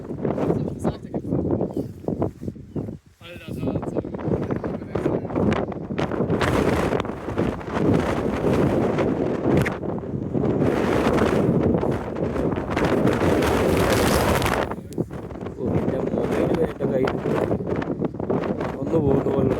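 Strong wind buffets the microphone on the Howth cliff walk near Dublin, a loud roaring gust-driven rumble that rises and falls, with a voice speaking intermittently beneath it.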